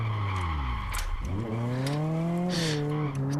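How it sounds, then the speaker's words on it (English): A rally car in the racing game RGT pulls a handbrake skid: the engine drone dips and climbs again under a sustained tire squeal, loud and close throughout. "here you can have some handbrake action"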